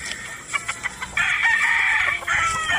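A bulik gamefowl broodcock crows loudly and close by, one long drawn-out call after a few short clucks and scratchy noises, with no talking.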